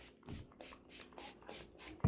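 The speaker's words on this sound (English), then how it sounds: "you take your little water bottle, your water spritzer, and then you're just going to start spraying" A handheld water spritzer pumps repeated quick mists onto a paint-covered coffee filter in an art project, soft rhythmic hissing bursts at a steady pace, close and quiet.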